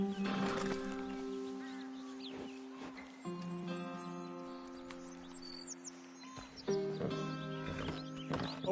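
A horse trots in the Red Dead Redemption video game, its hoof beats carrying on steadily for several seconds beneath sustained tonal music and scattered game sounds.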